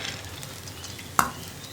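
Spring onion and grated coconut stir-fry in a pan for a Kerala-style thoran, giving a faint, steady sizzle with one sharp clink of a spoon against the pan partway through.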